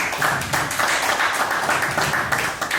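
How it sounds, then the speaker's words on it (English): Steady audience applause of many hands clapping together, continuous and fairly loud, filling a hall with no talk over it. "Please a round of applause for her."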